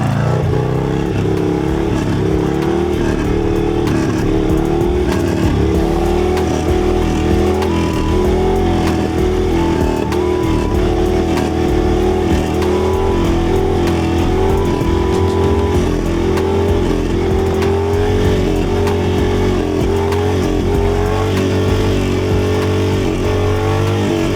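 A Harley motorcycle's engine roars and revs continuously at close range for a wheelie at a stunt show, with loud sustained throttle and rising and falling pitch throughout.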